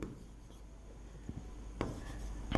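A pen or marker writing out a math set expression, faint scratchy strokes in a few short bursts against quiet room tone, close by with no talk.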